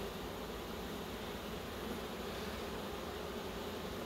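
Steady, dense buzzing of many honeybees in an open hive, a close, even drone that holds without a break throughout.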